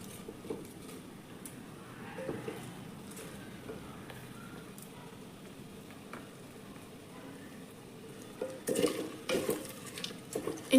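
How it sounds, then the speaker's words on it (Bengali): Bay leaves, dried red chillies and chopped garlic frying in oil for Champaran mutton handi, stirred by hand; a low, steady sizzle with soft scraping strokes, and louder clanks of the utensil against the pot near the end. "এবার একটু হালকা করে এটা নেড়ে দেব।"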